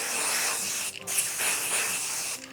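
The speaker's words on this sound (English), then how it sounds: "I'm gonna just spray some." A can of temporary adhesive spray hisses in a steady, close spray onto embroidery stabilizer, pausing briefly once and then continuing until near the end.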